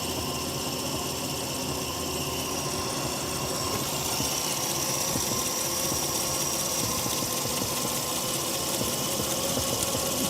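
A Mazda RX-7 rotary engine idles steadily close by, its cooling fan spinning with a constant whir and a faint high whine over the even, unbroken hum.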